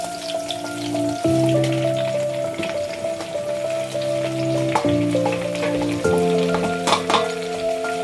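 Washed, chopped leeks sauté in a pot with browned onions, a close, steady frying crackle with occasional stirring and scraping, alongside a sustained tonal hum that shifts pitch now and then.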